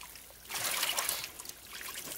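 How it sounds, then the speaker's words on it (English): Water drains out of a fish tank holding stocked catfish, a soft trickling, splashing flow that starts after a short pause and continues fairly close but quietly. "Drain some water out."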